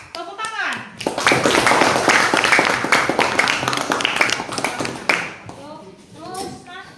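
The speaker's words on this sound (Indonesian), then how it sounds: "Ya, tepuk tangan." Children clap together in a loud, lively round of applause lasting about four seconds, framed by children's voices speaking before and after.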